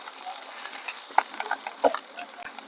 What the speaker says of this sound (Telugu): ఇట్లా కలుపుకున్నాం పచ్చివాసన పోయేదాకా.